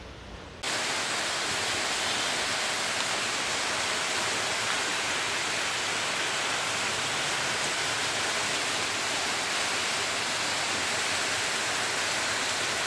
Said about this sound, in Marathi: धबधबाच म्हटले तर चालेल, इतकं पावसाचा जोर चालू आहे.